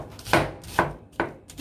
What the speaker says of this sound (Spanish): Vamos a picarla muy picadita.